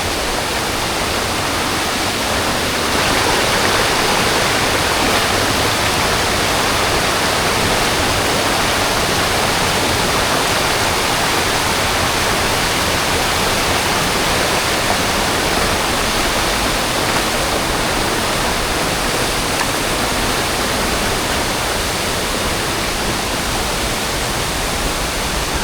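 Powerful waterfall roar on Mt. Romelo, a dense unbroken rush of falling water, loud and close, steady for the whole stretch with no voices.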